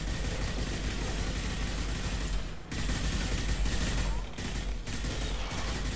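A dense, continuous Mass Effect 2 firefight, with overlapping weapon fire and impacts forming a loud, steady wall of noise broken by a few brief dips.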